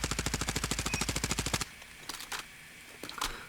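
SMG gunfire in the video game CBR4, with a fast, loud, evenly spaced burst of about twenty shots lasting a second and a half, followed by a few fainter distant shots.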